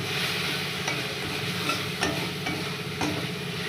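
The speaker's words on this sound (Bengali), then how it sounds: "দিয়ে এবার একটু ভালো করে কষাবো মশলাটা।" Ground cumin, turmeric, chilli powder and a little salt being stirred and sautéed in a small amount of oil for fish curry, a steady close sizzle with scraping strokes of a spoon throughout.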